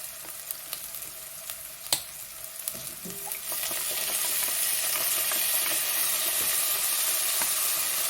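Soy sauce hits browned meat in a hot pan, jumping from scattered light crackles and a few clinks into a loud, steady sizzle and hiss that fills the rest of the moment, with no talking.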